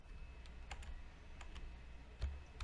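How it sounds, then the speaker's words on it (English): Sparse computer keyboard taps, a few scattered clicks and short bursts at irregular intervals, faint and close against quiet room noise during a podcast recording. "Who's typing?"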